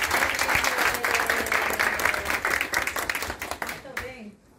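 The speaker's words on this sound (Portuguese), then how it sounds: "Então, primeiro uma salva de palmas para todos vocês." A team-building origami workshop group applauds together, lively clapping from a roomful of people with some voices mixed in, tapering off and dying away near the end.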